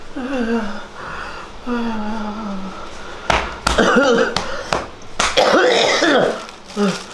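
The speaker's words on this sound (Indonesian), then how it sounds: "sering batuk-batuk begini ya?" Several harsh coughs burst out close by in quick succession, with people talking before and between them.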